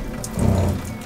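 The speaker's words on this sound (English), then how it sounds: "The noise you hear there is the water pump." A van's water pump runs at a sink, a close steady hum and rush of flowing water that swells in the middle and then eases off.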